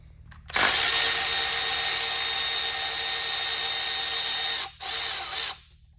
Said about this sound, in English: Take these inverse Torx bolts out.